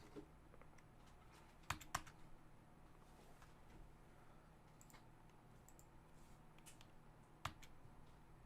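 A computer keyboard gives a few sparse, faint key clicks, with two sharper taps early and one near the end over a quiet background, and no voices.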